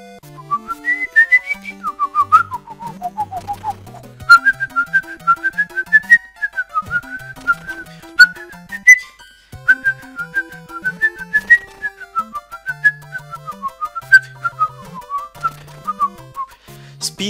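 Melodic whistling from Super Mario Maker 2, a bright wavering tune carried over a bouncy plucked bass line with steady percussive ticks, loud and continuous throughout.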